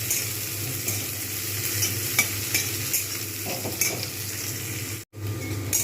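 Onions frying steadily in oil in a pan over medium heat for a spicy Bengali fish curry, a continuous dense sizzle with occasional stirring scrapes and a brief dropout near the end, no talking.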